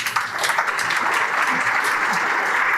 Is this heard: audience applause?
yes